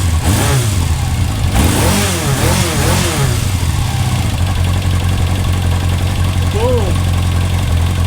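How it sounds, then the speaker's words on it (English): A project motorcycle engine running smoothly after its carburetors were synchronized, a loud, close, steady idle with a few quick revs rising and falling, and someone talking over it. "Bike is running so smooth"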